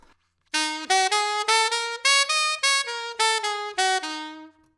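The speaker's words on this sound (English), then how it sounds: "if we were to play this blues scale in a jazz style, it would sound like this" A blues scale played on a single melodic instrument in swung jazz eighth notes, a run of about a dozen clean detached notes rising and falling, heard alone and up close.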